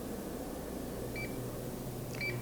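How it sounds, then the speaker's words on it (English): A nut milk machine making almond, rice or oat milk signals that it has finished with two short, high electronic beeps, the second a double chirp. The beeps sound over a steady low room hum, and no one speaks. "When it's done, the machine will beep."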